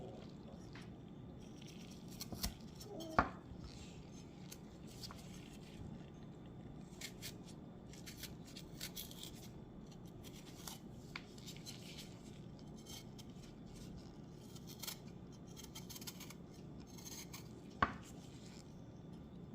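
Knife slicing peeled ginger on a cutting board, a steady run of soft, close cuts and taps with occasional sharper knocks, fairly quiet and without talking.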